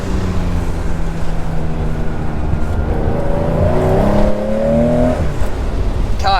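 A 1972 Porsche 911 in olive drives along a road, its engine droning steadily and then climbing in a rising rev sweep as it accelerates through the gears, loud and close from inside the cabin.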